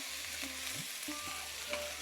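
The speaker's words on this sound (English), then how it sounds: "while the onions are sauteing" Red onions sautéing in a pan for an aloo gobi curry give a quiet, steady sizzle, broken by a few soft stirring scrapes.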